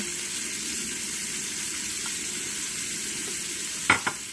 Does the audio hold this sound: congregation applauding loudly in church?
no